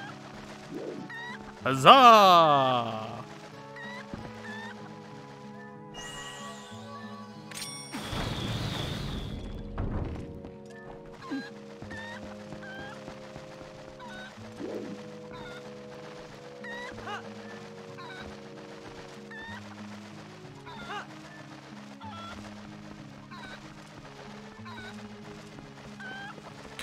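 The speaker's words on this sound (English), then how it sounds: "All right, chicken, you come with me." A chicken clucks in the Zelda: Twilight Princess video game, with brief squawks near the start among game music and effects, while someone speaks over it.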